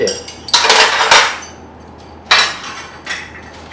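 Metal wrenches of several sizes clink and clatter together in bright, sharp bursts close by, two clusters of jangling separated by a brief pause, with a wheel detailing stand being assembled.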